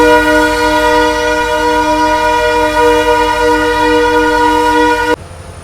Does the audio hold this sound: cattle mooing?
no